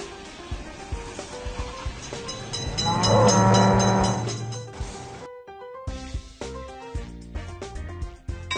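A video game train roars through a railroad crossing, growing to a loud rumbling pass near the middle with a horn-like tone, then cutting to a brief near-silence before game music and chimes resume.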